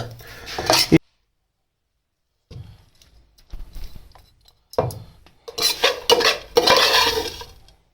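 Chir halwa scooped out of a cooking pot, with a few clinks and scrapes of a metal spoon against the pot, then a quiet gap, then bursts of scraping and rubbing.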